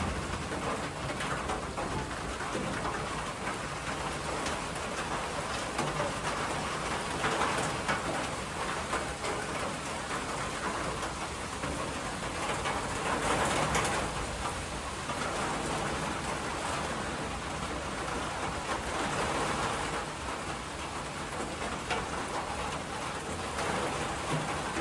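Steady, dense rain pours down through the whole stretch at a shelter on the Appalachian Trail during a thunderstorm, with pigeons or doves cooing faintly beneath the hiss of the downpour.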